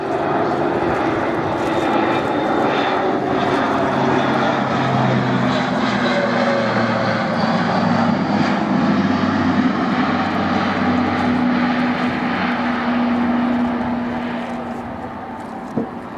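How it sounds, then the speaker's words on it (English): An Airbus A400M military transport with its turboprop engines throttled back drones steadily and loudly overhead as it descends through a tight left turn at an air display, fading slightly at the end. "the engine's been throttled back to this stage, and the aircraft is descending for doing a tight 360-degree left turn"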